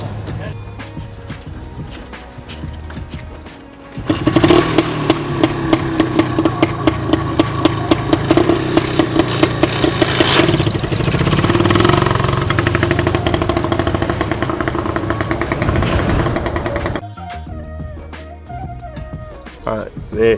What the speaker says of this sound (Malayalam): റിവേഴ്സ് ഗിയർ ഉള്ള ബൈക്ക് ആദ്യമായിട്ട് കാണുക